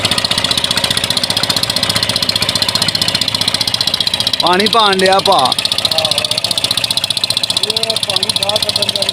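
A boat engine runs steadily on a bamboo raft ferrying across water at a broken bridge, a constant mechanical drone throughout, with a voice speaking briefly over it midway.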